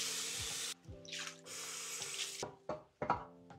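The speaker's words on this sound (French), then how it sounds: "Bon maintenant on va utiliser cet anti-calcaire, je vais nettoyer la vasque." A tap runs into a sink basin during cleaning with descaler, a close, splashing rush of water that stops and starts several times, with short bursts near the end.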